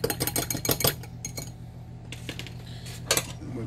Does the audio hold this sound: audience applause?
no